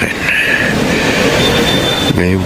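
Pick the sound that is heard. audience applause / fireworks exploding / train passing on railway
train passing on railway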